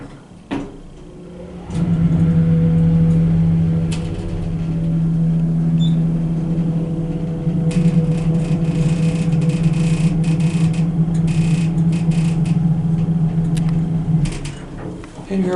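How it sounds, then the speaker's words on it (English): A modernized Dover hydraulic elevator motor by Hadfield drones in a building basement, a loud steady low hum starting after a brief thump and running continuously with mechanical clanks and rattles layered over it. "Watch the one go out, listen to the motor again."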